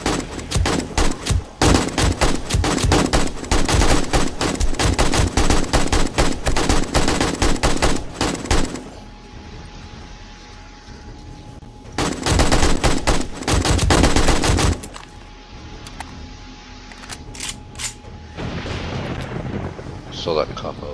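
Gunfire rattles through a horde night in the video game 7 Days to Die, long bursts of rapid, loud machine-gun shots broken by quieter pauses, with someone talking over parts of it.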